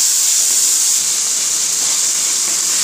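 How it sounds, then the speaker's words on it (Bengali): Chicken pieces with soy sauce lightly frying in a pan over high heat for a Chinese-style chicken vegetable dish, giving off a close, steady, unbroken sizzling hiss with no talk. "আমি একটু মাংসগুলো হালকাভাবে ভেজে নেব।"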